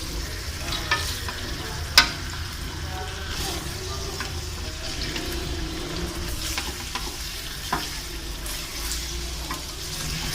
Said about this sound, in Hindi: इसको हल्का हल्का फ्राई करना है।